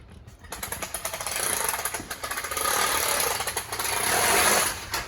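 A 2015 Wildwood 402QBQ RV awning is pulled out and unrolls, a close mechanical rattle and ratcheting clatter in quick repeated pulses over a few seconds.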